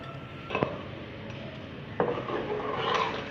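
Shredded red carrots for gajrela kheer tip into a pot, giving a couple of soft clattering thumps of utensil against metal cookware, fairly quiet with no talk.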